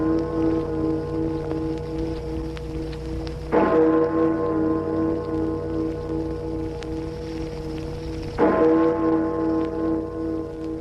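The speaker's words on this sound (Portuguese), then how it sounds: "Ao soar o carrilhão dando as 12 badaladas" Carillon bells striking twelve for a midday Brazilian radio broadcast: two resonant, ringing strikes about five seconds apart, each decaying slowly into a sustained hum.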